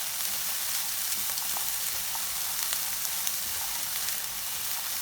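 Vegetables for a stuffed omelet sauté in a pan, giving a continuous close sizzle and frying hiss with faint stirring taps and no voices.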